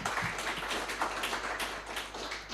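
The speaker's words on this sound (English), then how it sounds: "Another round of applause for Dr. Chitogo." Symposium audience applause at Mbarara University of Science and Technology, a fairly quiet, even patter of many hands clapping that runs steadily throughout without voices.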